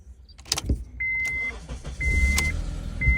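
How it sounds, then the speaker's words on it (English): Honda CR-V from the 2002–2006 generation cranks with the key, its starter churning in uneven bursts before the engine begins to fire, loud and close, with a steady warning chime sounding at intervals. "now we will crank it again."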